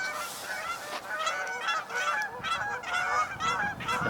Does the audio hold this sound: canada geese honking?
yes